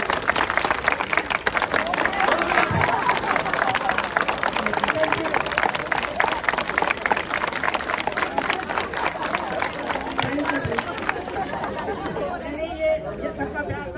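Audience clapping at a nurses' walkathon event for a tobacco-free AIIMS campus, a sustained rapid patter of many hands mixed with crowd chatter, tapering slightly near the end.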